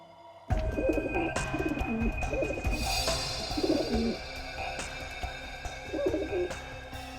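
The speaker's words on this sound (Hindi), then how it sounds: "मेरे कबूतर है अंदर में" Pigeons coo in low, throaty bursts, several repeated calls close by, with faint chirps and a steady background hum, in a TV drama scene.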